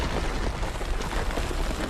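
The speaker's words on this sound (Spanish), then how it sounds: "esta explosión avanza hacia el interior y hacia arriba, destruyendo por completo el submarino y los soportes estructurales del dique desde todas las direcciones" A large explosion tearing through a submarine and the structural supports of a naval base dry dock, a dense, continuous roaring rumble with broadband crackle, loud and sustained throughout with no talk.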